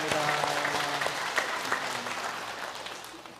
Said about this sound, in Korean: 한 해 수고한 우리 가브리엘 찬양대를 위해서 우리 격려와 사랑의 박수를 보냅시다.